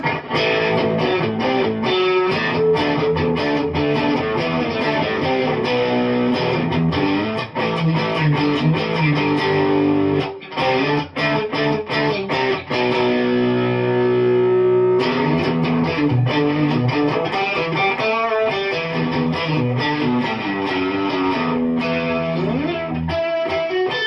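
Electric guitar played through a Fender Pugilist distortion pedal with the blend set fully to the B side, dense driven chords and riffs ringing continuously and loud, with brief gaps.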